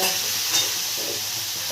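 Food frying in oil in a pan, a steady close hiss and sizzle that carries on without pause, with faint stirring and no voices.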